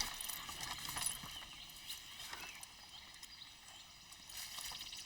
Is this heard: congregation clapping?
no